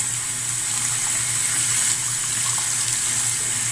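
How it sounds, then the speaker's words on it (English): Tap water runs steadily into a sink while a makeup brush is rinsed under the stream, a constant close hiss of splashing water with no speech. "I do that under the water until it runs clear"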